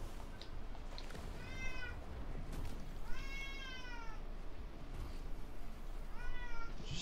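A pet cat meows three times across a few seconds, each call rising and falling, close by over steady low background noise from a video game.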